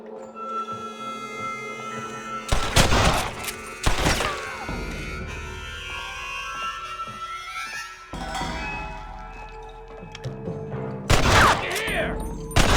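Gunfire in the Western video game Red Dead Redemption, with several heavy bursts of shots and crashing impacts over a droning game soundtrack, spaced unevenly across the stretch and loudest near the end.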